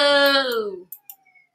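An ambulance siren in a video game wail sweeps downward over about a second, then cuts off, leaving a few faint clicks and a thin high tone.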